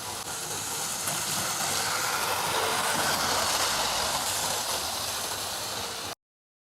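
A 1983 Hornby HST 125 model train set runs on its track with a steady, even whirring hiss at moderate volume, unbroken for about six seconds before stopping abruptly, with no voices.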